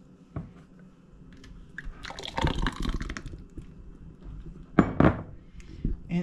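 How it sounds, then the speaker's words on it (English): A pineapple and coconut popsicle mixture is poured into cups, giving soft liquid splashes and drips mixed with light clinks of containers, fairly close and quiet, with a louder pouring burst near the end. "Let me just pour some more in here."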